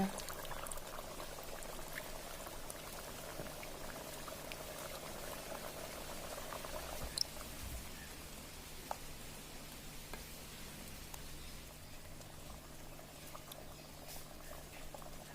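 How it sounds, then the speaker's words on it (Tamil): Dried fish and brinjal curry boils steadily in a pot, a continuous bubbling simmer with soft popping and a low hum beneath, fairly faint and with no voices. "நல்லா குழம்பு வந்து நல்லா கொதிச்சு வந்துச்சுங்க"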